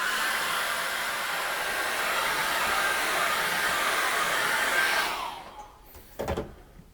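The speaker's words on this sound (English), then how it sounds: "So I'm going to dry that with a hairdryer." A hair dryer blows steadily to dry acrylic paint on a board, a loud constant rushing hiss that cuts off after about five seconds, followed by a brief knock.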